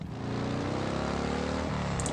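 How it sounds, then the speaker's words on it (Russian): A boat motor in the video game Last Day on Earth rises from a brief start into a steady, even engine drone, fairly quiet and alone. "Заводи мотор."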